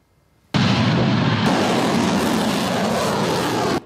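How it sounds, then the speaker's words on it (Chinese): During an air raid at Ukraine's border, a sudden loud blast erupts out of near silence and turns into a sustained, dense roar that lasts several seconds and then stops abruptly. "他带记者视察的时候遇到了空袭"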